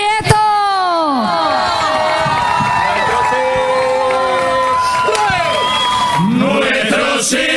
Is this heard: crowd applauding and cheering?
yes